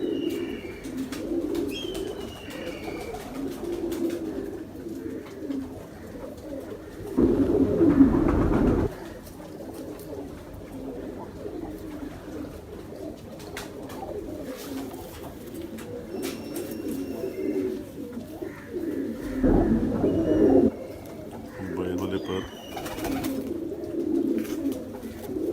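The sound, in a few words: pigeons cooing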